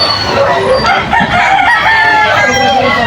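A Boston cross SBR gamefowl rooster crows loudly and close at a rainy outdoor gamefowl sale, its long strained call filling the moment over background clucking and crowd noise.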